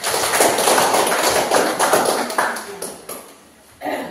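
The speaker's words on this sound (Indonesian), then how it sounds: "Mari kita berikan aplaus." A classroom audience claps for a group that just finished its presentation, a dense patter of many hands that thins out near the end before a last short flurry, with voices mixed in.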